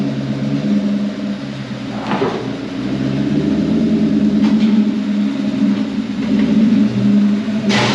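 A Ford Cobra creeps onto a workshop lift, its engine a steady low rumble with a light rev swelling partway through, close and continuous with no talking.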